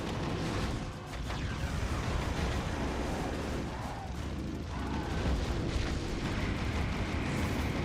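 Machine gun fire in the vehicular combat game Twisted Metal: Lost rattles as a dense, loud barrage of rapid shots blending with rumbling explosions, continuous throughout with no talking.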